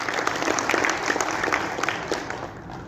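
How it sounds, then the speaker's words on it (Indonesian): Audience at an education workshop on literacy applauding together, a dense, steady patter of many hands clapping close by for a few seconds before easing off. "sekali lagi kita aplaus dulu"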